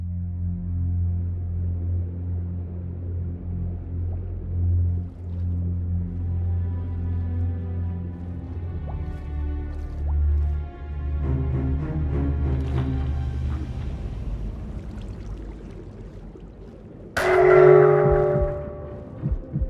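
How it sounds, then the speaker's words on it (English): The Elder Guardian curse from Minecraft, heard as a low droning underwater hum with layered eerie tones that swells over several seconds, then ends in a sudden loud, shrill stinger. "Signified in the game files as curse, mining fatigue is inflicted upon trespassers by Elder Guardians, delivering a notable jump scare to any who approach their domain."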